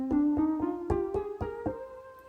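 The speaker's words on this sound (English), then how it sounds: "this scale still starts at C, but it's the C natural minor, so it sounds like this" A rising C natural minor scale is played as separate notes on the pads of a Roland Verselab MV-1. About eight evenly spaced synth tones each start with a soft percussive attack and ring with steady harmonics. The notes are clear and close, with no talking.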